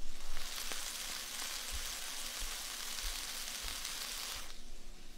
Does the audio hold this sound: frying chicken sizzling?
yes